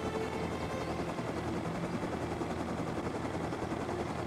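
A helicopter flies in Army of Two, its rotor and engine drone forming a steady, dense, moderately loud wash that holds constant for the whole stretch without speech.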